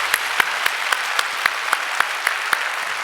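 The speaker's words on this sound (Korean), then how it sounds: "우리 감사의 박수 올려드립니다." A church congregation breaks into loud, sustained thankful applause, a dense wash of clapping with sharp claps landing in a steady, even rhythm throughout.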